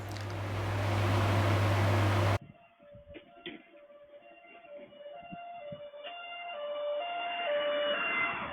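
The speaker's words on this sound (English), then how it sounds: "just as I'm putting the parcel inside my house, I can hear the siren." An emergency vehicle siren heard from outside a house, a steady wailing tone rising and falling at moderate distance after a loud burst of broadband noise at the start.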